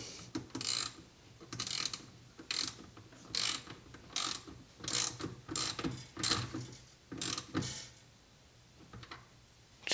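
Ratchet wrench tightening bolts on an EZGO RXV golf cart controller, repeated short bursts of clicking ratchet strokes in an irregular rhythm, close and fairly quiet.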